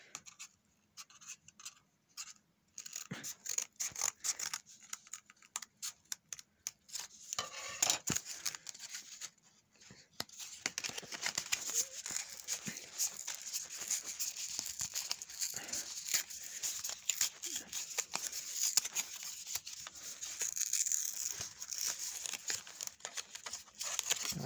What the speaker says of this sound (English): So let's get the scissors.